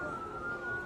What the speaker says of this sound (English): And air raid sirens, you can beginning to hear them.